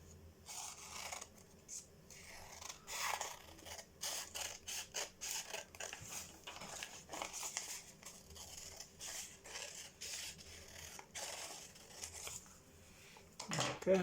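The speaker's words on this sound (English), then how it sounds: "we're going to cut along this line we've just folded now with the scissors" Scissors snipping along a fold in origami paper, a fairly quiet run of quick, irregular cuts and crisp paper rustles close by, with no talking.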